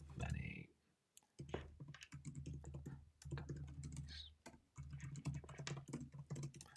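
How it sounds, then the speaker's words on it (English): Computer keyboard typing with rapid clicky keystrokes in irregular bursts, close and fairly quiet, mixed with someone talking at moments during a live online stream. "Sorry, I'm typing while live."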